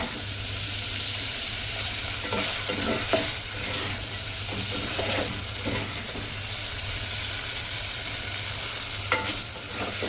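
Ridge gourd and mutton fry in a pan with green masala, a steady close sizzle and hiss with occasional stirring scrapes throughout.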